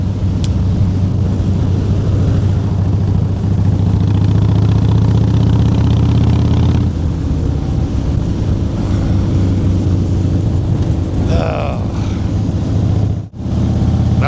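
Motorcycle riding on winding mountain roads, a steady loud engine drone with wind rush throughout, shifting in pitch as the bike changes speed, with a brief dip near the end.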